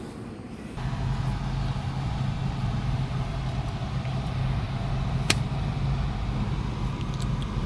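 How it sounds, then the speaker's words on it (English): Steady low engine hum and road rumble from a Toyota Glanza with a 1.2 liter K12 engine while driving, a constant quiet drone inside the cabin with a brief click near the end. "As you can listen, the motor is absolutely silent."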